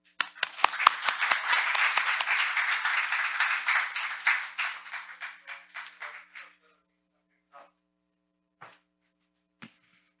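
A seminar audience at a fintech event applauds to welcome the first presenter. Clapping swells quickly into full, even applause, thins out after about four seconds, and ends in a few last scattered claps.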